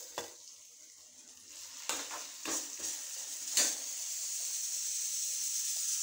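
Chicken pieces coated in crumbs fry in a pan at home, giving a steady, quiet sizzle and hiss. A few sharp clicks from stirring utensils against the pan cut through it, and no one speaks.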